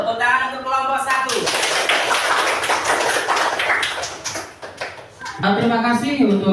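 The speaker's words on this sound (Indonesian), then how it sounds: "Tepuk tangan untuk kelompok 1." Students in a classroom clap for a group that has just finished its presentation, a burst of dense applause lasting several seconds between stretches of a speaking voice.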